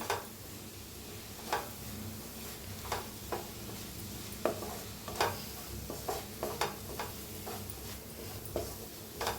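Masala is stirred and roasted in a pan, with a steady sizzling hiss underneath and sharp, close spoon taps and scrapes at irregular intervals, no voices heard.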